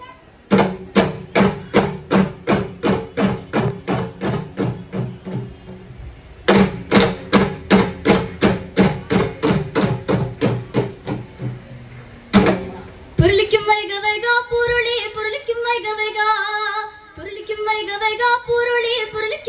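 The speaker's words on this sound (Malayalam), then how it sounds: "ഞങ്ങൾ ഇവിടെ ഉപയോഗിക്കുന്ന വാദ്യോപകരണങ്ങൾ ചെണ്ട തൊടി ഇടത്താളം വടിച്ചിലമ്പ് മരം" Kerala folk percussion of chenda, thudi, idathalam, vadichilambu and wooden sticks plays at a school nadan pattu competition: fast, sharp rhythmic strikes in steady runs, a brief pause, then a denser ringing passage with sustained tones.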